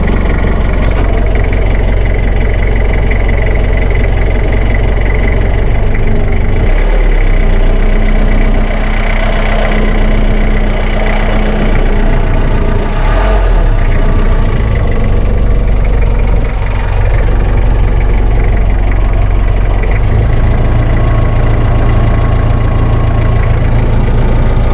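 A vehicle engine idles loud and close, a continuous low rumble with a steady mechanical throb and slight shifts in tone over the whole stretch, with no voices.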